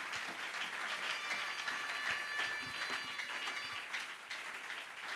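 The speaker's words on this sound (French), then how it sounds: "donnons une forte acclamation" Congregation applause and cheering at a Sunday church service, a dense steady wash of clapping lasting throughout at an even, fairly loud level, with a few faint voices mixed in.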